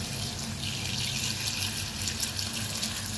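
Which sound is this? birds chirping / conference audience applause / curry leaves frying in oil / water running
water running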